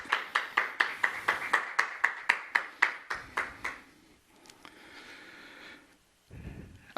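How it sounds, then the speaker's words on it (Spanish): Church congregation clapping in a steady, even rhythm, about a dozen sharp claps over three seconds, then tapering into a quieter murmur with a brief noisy burst at the end. "Démosle un aplauso al Señor Jesucristo."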